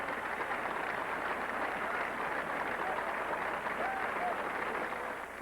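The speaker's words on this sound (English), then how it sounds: "Secretariat type applause," Golf gallery at the 1973 US Open gives steady, dense applause for Johnny Miller's final round, a sustained crowd roar of clapping at even loudness throughout.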